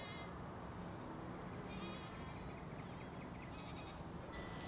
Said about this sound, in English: every year they bring the goats to eat all the weeds, so you hear like 300 goats all day and all night going at it